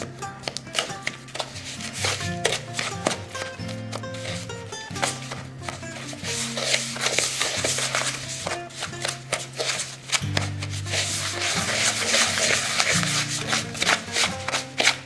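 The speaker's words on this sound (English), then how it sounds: "I'm going to use with my hands with the bowl and the wooden spoon." Brown sugar is creamed by hand with a wooden spoon in a bowl for a Dutch apple cake, a dense run of scraping, gritty strokes and knocks against the bowl, close and continuous, with faint tonal background sound.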